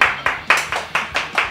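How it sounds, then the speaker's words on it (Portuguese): A few people clap together in a home kitchen while making sugar-free ice cream, six or so sharp, evenly spaced claps close by, with no talk over them. "Vamos fazer palma pra gente? Palmas."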